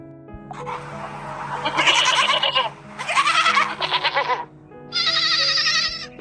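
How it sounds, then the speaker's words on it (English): Three or four loud, wavering goat bleats in quick succession, each with a strained, nasal quality, sounding close by. "D for goat"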